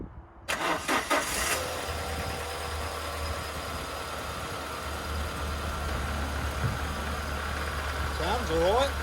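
A car engine in a rare wheelchair-access vehicle cranks briefly, fires and settles into a steady, loud idle nearby, with a voice speaking over it near the end.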